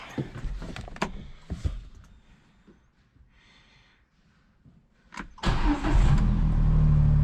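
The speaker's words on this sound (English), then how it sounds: "Get this gator cranked up and warming up." A Gator utility vehicle starts up after some rattling and thumps, catching with a rough crank and then settling into a steady, loud, close engine idle.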